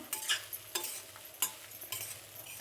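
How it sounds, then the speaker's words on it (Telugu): A ladle scrapes and stirs a spice powder mix on a hot flat pan, with several quick, soft rhythmic strokes and a faint sizzle close by in an otherwise quiet kitchen. "పెనం వేడిగా ఉంది కాబట్టి నేను ఇలా గరిటెతోనే కలుపుతున్నాను"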